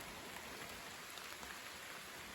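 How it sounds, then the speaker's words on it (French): Steady rain falls at night as a storm winds down, a dense, continuous hiss of drops on surfaces with no talk, even and moderately loud throughout. "Voilà, la pluie est de retour."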